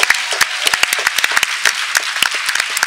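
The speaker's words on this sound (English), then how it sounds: "So let's give our panelists a round of applause." An audience claps for panelists after an Earth Day screening of the climate film Do The Math with Bill McKibben: loud, close, individual claps from a modest crowd, quick and uneven, with no talking.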